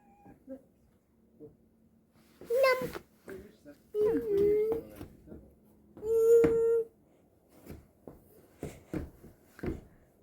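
A few drawn-out meows from a pet cat, some close and plaintive, separated by quiet moments and soft background talking.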